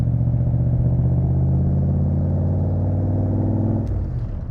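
A Ford 351 V8 engine in a Crendon Cobra rumbles low and heavy at a steady pace, close by, then the note drops away as the throttle eases near the end.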